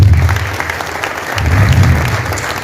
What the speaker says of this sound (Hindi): उनके सम्मान में एक बार तालियां जोरदार से